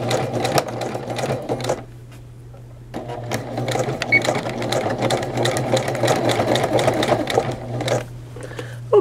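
A sewing machine stitches a collar onto a women's button-down shirt, running in rapid, steady bursts close by, pausing briefly once before resuming, with a low motor hum underneath.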